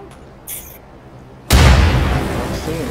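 A frag grenade explodes in the Insurgency video game, a single loud close boom that erupts suddenly and decays into a long rumbling tail after a brief quiet pause.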